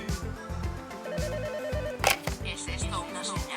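A telephone rings in a trilling, repeating electronic bell pattern, mixed under music and other sounds with speech present.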